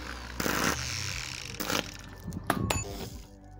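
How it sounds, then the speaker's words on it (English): Power drill grinding through 2mm mild steel sheet, lubricated with two-stroke oil, as part of work on a vacuum actuated bypass valve for an M111 Kompressor; harsh, loud whining bursts with abrupt stops and restarts. "I've been trying to drill through this, and so far this has claimed two drills and three hole saws, and it's only 2mm mild steel"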